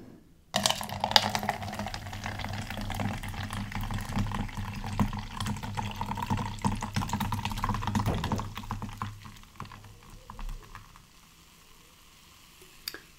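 Aldi Red Thunder energy drink being poured into a glass gives a close fizzing, crackling hiss that runs steadily for several seconds and then tapers off to quiet.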